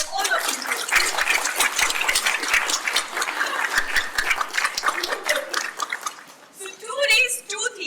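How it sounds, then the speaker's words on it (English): A conference audience at the SJAI Conference 2025 breaks into dense, sustained clapping that fills the room, then thins and fades near the end. "So a big round of applause for all of you."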